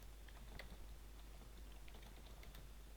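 Quick, light key clicks on a computer keyboard, a brief run of soft irregular taps over a low steady hum, faint and close.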